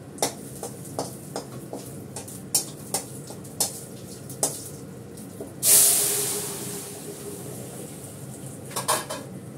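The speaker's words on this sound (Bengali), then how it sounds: "ঘি দিয়েছি, শুকনো লঙ্কা দিয়েছি, জিরে ফোড়ন দেবো, তার সঙ্গে দেবো হিং ফোড়ন।" Cumin and asafoetida go into hot ghee with dried red chillies to temper arhar dal. A sudden loud sizzle and hiss fades slowly, and close metal clinks of a pan and stirring spoon come before and after.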